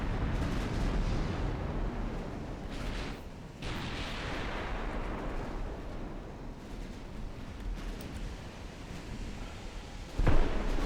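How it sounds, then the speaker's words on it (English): Battleship main guns fire at enemy ships in the naval strategy game Ultimate Admiral Dreadnoughts, giving a continuous heavy rumble of distant cannon blasts and booming explosions with a sharper, louder report near the end. "Targeting multiple enemies by my battleships."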